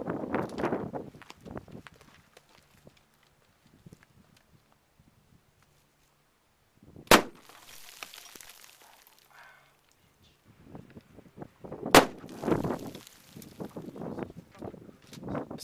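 Two sharp, loud shotgun blasts from high-velocity 1.5-ounce 6-shot shells fired at 5 yards ring out several seconds apart over a quiet outdoor background, with scattered talk and movement around them.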